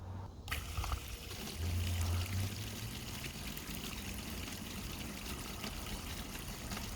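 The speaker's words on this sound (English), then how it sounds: "you can hear that the water is now running" Water running through a Lumary solar WiFi water timer on a garden hose, a steady continuous hiss and trickle with a low rumbling flow, fairly close and alone with no talk.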